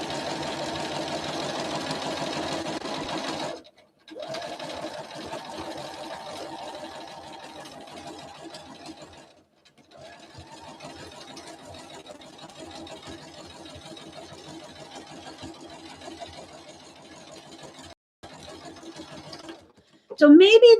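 A sewing machine stitches a string project in steady motorized runs, briefly pausing between bursts, with a person talking over the whirring.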